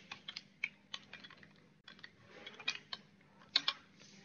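Someone types a command into a computer keyboard at a command prompt, a close series of irregular clicking keystrokes with short pauses between bursts.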